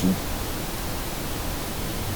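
Steady broadband hiss of pink noise, even and unbroken, with a warm, slightly darker tone and no other sounds.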